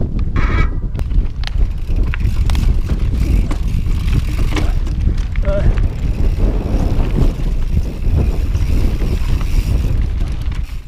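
Strong wind buffeting the microphone on an open, windswept mountain bike trail at Oil Well Flats near Cañon City, Colorado, a loud continuous rumbling roar with scattered clicks and rattles from the bike.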